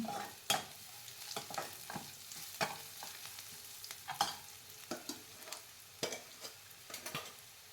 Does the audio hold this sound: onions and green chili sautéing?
yes